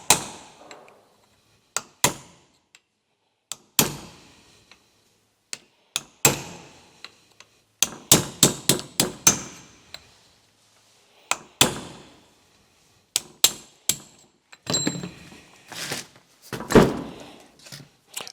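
Sharp metallic hammer strikes drive a drift punch against the corroded pad retaining pins of a GT4 Celica brake caliper, arriving as isolated taps and then quick bursts of repeated blows with silent gaps between them.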